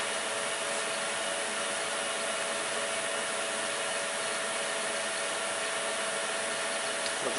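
A vacuum pump runs on a plasma surface treatment system, giving a loud, steady, unbroken broadband hum with a faint tonal whine that holds constant throughout.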